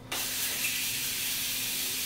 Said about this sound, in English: take the Morphe Continuous Setting Mist and spray it all over my face